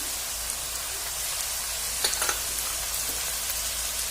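Onions drop into a pan of frying cabbage and carrots, a steady close hiss of sizzling oil with a few brief clicks midway.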